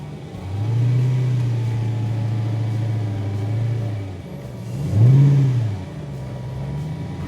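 A tow vehicle's engine drones steadily while pushing a 1954 Ford F600 truck, holding a low even note, easing off, then surging briefly louder before settling again; close and unaccompanied by talk.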